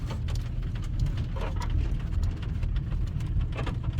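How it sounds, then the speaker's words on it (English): Hard rain pours steadily over a high desert garden driveway, a dense, continuous hiss close by with scattered louder drops and no voices. "it was raining quite hard"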